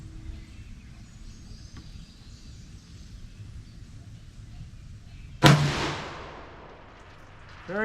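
One sharp, loud rifle shot from a Tikka TX3 in .308 on a shooting range, cracking suddenly after quiet and trailing off in a short echo.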